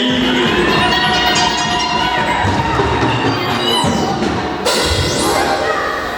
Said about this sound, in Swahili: Pigia Bwana makofi.